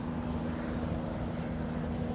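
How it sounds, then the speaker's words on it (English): Helicopter taking off near Manhattan, a steady low rotor and engine rumble at a moderate distance that holds at an even level, with no talk over it. "We're near the helicopter. There it is, taking off."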